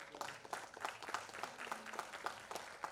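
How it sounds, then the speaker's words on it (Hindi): Audience at an awards event applauding, faint and distant clapping with distinct individual claps standing out in an uneven rhythm. "तो मैं चाहूंगी सभी के लिए जोरदार तालियां हो जाए"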